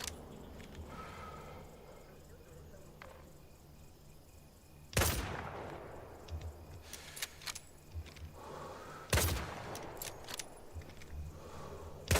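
Rifle shots at enemy targets in the video game Hell Let Loose: Vietnam, a few loud sharp cracks spaced seconds apart with faint clicks and ambient insect hum between.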